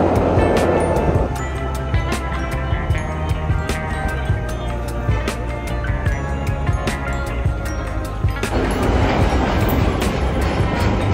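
A train rolls along the rails into a station with a heavy low rumble, metallic clatter and brake squeals. It sounds close and loud, continuous for about eleven seconds with no one speaking.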